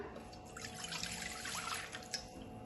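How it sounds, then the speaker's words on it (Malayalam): Half a cup of milk pours from a container while fruit custard is being made in a home kitchen, giving a steady, close liquid trickle with faint splashing and no voices. "നമുക്കിനി 1/2 കപ്പ് പാലൊഴിക്കാം."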